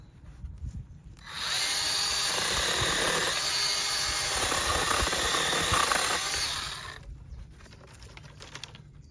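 A Stiga PR 100E mini chainsaw cuts water shoots on an apple tree, a loud, even, high whine that starts suddenly, holds for about five seconds and then winds down, with faint outdoor quiet before and after.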